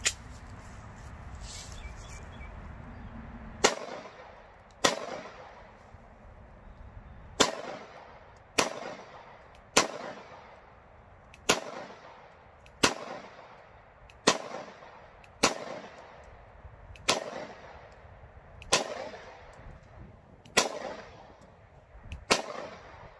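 An FNS-9 pistol fires a magazine outdoors, with about fifteen loud, sharp shots spaced a second or two apart, each followed by a short echoing decay, after a quiet stretch at the start.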